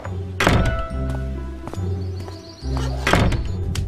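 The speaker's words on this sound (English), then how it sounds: "Alice decided to open the door herself." Thudding door sounds in an audiobook scene: three or four heavy, close knocks or bumps spaced apart over a steady low hum, with no voice speaking.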